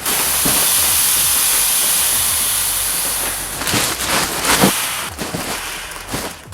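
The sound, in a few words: air being pushed out of a vacuum space saver bag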